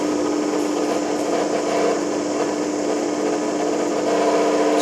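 Spinning rotor of a lensless SSG motor driving two loads from a run battery, fitted with poor bearings: a steady high whirring hum with a constant tonal line, running evenly and close throughout.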